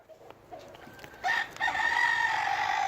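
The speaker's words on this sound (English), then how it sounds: "The layer hens are down here, aren't you girls?" Layer hens in a winter urban smallholding cluck and call close by, starting soft and growing louder and more sustained, with one brief crow-like burst in the middle.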